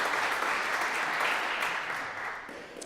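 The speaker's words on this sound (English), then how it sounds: "So let's give them a rousing round of applause." Audience at a parish meeting applauding new members, a sustained round of clapping from a room full of people that thins toward the end.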